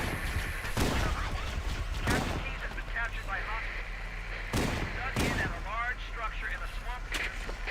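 Shotgun blasts in Halo: Combat Evolved, several loud booming shots spaced irregularly over steady game music and ambient sound, with faint voice chatter in between.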